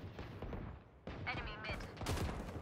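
Gunfire from a ranked Valorant match on the Haven map comes in quick bursts and rattling volleys at moderate volume, mixed with other game sounds.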